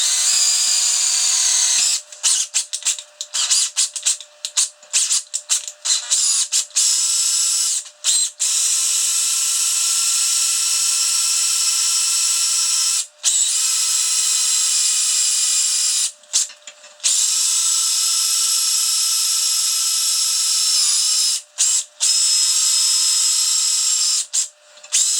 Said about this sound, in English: You need to make a hole with 7/16 drill bit.